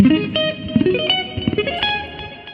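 A clean Sawtooth ES Hybrid electric guitar on its single-coil pickup, with light compression, plays a short phrase of plucked single notes, bright and ringing, with no distortion.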